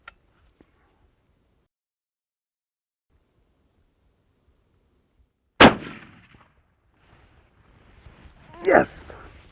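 A rifle fires once at a whitetail deer: a single loud, sharp report cracks out of near silence and decays quickly, followed a few seconds later by a short burst of excited voice.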